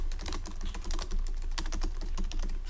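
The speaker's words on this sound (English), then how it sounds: "You simply start typing the task" Rapid typing on a computer keyboard, a close, continuous patter of crisp key clicks with uneven rhythm and no talking.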